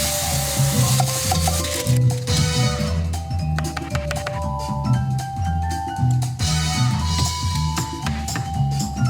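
Ground meat sizzles and crackles in a hot pan while a utensil scrapes and stirs it, producing repeated clattering strokes over steady frying noise, with a soft tonal background underneath.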